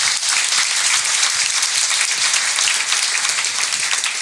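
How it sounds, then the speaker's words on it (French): Audience applause at an automotive-world event, a loud, steady crowd of clapping hands running without pause for about four seconds. "Bravo, on peut l'applaudir."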